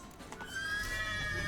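A horse in The Witcher 3: Blood and Wine lets out a loud, drawn-out whinny that rises and holds steady for over a second, close and alone with no talk over it.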